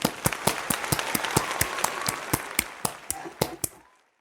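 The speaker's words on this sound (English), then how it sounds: "I think you deserve a round of applause." Clapping and light applause for a guest on a diabetes talk show, a close, crisp run of distinct hand claps over a soft crowd bed that tapers off into silence.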